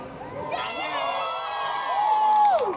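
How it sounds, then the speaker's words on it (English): Festival crowd cheering and whooping at a live motorsport stage show at Silverstone, a dense roar of many voices with one shrill sustained shout rising above it near the end. "we're cheering"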